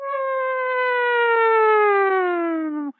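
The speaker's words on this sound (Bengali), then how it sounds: "শুনতে পাচ্ছ? সাইরেন বাজছে" A civil defense siren wails steadily after a plane passes overhead in wartime, one long sustained tone that slowly falls in pitch for about three seconds before cutting off abruptly.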